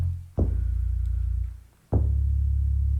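A soft, round synth bass plays two sustained low notes, each starting with a gentle thump and fading smoothly, with a brief dip between them.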